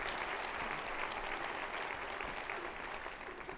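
Sustained applause from a big crowd filling a City Club ballroom at a State of the Schools event, dense and steady throughout, with no speech over it.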